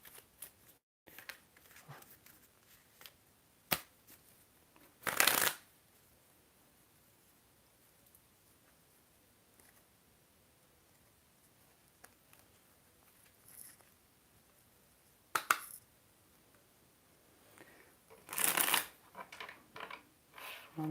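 Tarot cards are shuffled in a quiet room, with a few brief crisp riffling bursts separated by long stretches of near silence and faint handling rustles.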